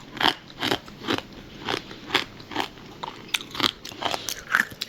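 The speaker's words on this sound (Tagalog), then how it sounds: "Nababawiin natin sa pagkain. Ito, banana chips. Kain po." Close, crisp crunching of banana chips being chewed, in a steady rhythm of bites with no talking.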